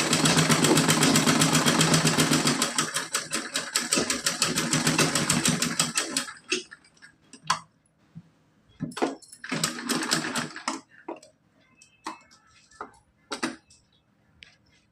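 Sewing machine stitching a cotton frock-style doll dress, running in a steady continuous burst for about six seconds, then giving way to short intermittent clicks and brief rattling stitch runs.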